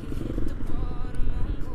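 A Honda PCX 160 scooter engine warms up at idle close by, a steady low rumble with light clatter running unbroken throughout.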